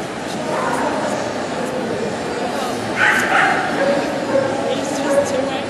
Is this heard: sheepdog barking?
yes